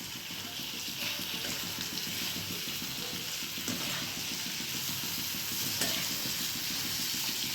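Farali suki bhaji being stirred in a pan over a gas flame, with a continuous sizzle and scraping stirs running steadily throughout, fairly close and without talk.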